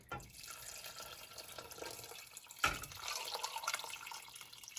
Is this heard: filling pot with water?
yes